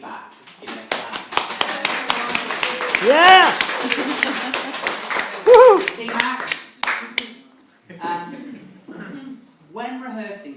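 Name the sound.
audience applause at a talk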